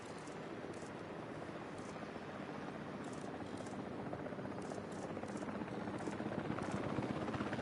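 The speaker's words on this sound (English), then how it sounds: "Sending out the drone." A drone flies in Jurassic World Evolution 3, giving a steady, broadband whirring hum that slowly grows louder, with faint soft clicks on top and no talking.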